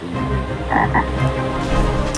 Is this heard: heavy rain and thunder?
no